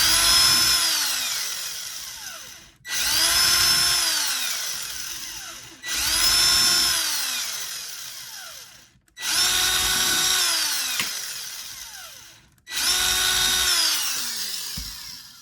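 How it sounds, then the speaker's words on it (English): A power drill bores a row of holes through cigar box guitar wood in five separate bursts, each one whining up to speed and then cutting out, loud and close, with short pauses between them. "I'll just get my drill and I'll just like put like little holes, like a postage stamp"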